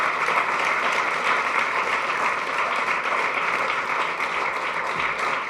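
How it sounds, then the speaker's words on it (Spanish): A church congregation applauds in a steady, dense wash of many hands clapping together, sustained and fairly loud for several seconds without a break. "Denle un aplauso"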